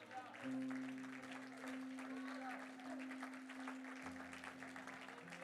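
A church congregation applauds during a French-language worship service, steady clapping carried for several seconds over a sustained organ or keyboard tone.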